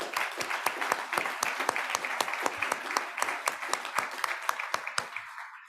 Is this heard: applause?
yes